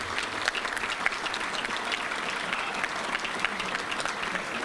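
A luncheon crowd at a Little Rock touchdown club applauds the welcome of the Arkansas State president, with steady, moderately distant clapping throughout.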